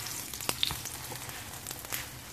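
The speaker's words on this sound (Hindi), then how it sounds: "पराठे को सेकेंगे।" A Nutella paratha cooking in oil on a hot pan, a soft, steady sizzle with a few brief crackling pops, fairly quiet and close.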